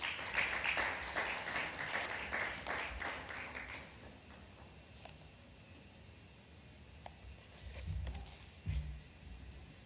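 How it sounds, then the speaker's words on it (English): Applause from a conference audience welcoming a speaker. Clapping rings out for a few seconds and then fades away, leaving a quiet room with a few scattered knocks and soft handling noises. "Let's put our hands together for him"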